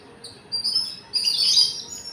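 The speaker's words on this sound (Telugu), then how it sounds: "ఉడతలు, కాకులు, అడవి పిట్టలు ఎన్ని వస్తున్నాయి చూడు." Wild birds and crows gathering outdoors give high, thin chirps in two short bursts, the second louder and denser, over a quiet background.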